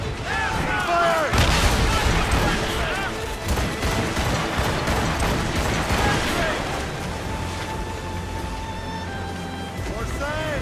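Naval cannon fire in the Assassin's Creed Rogue game, a big booming blast followed by rumbling shots and crashing debris, all under loud shouting crew voices.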